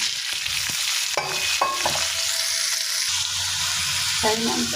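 Bottle gourd pieces with turmeric frying in a little oil, giving a loud close sizzle with a few clinks and scrapes of a spoon against the pan.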